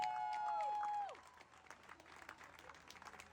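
A sustained tone slides downward and cuts off, then scattered, fairly faint clapping follows from a modest crowd at a Pride event.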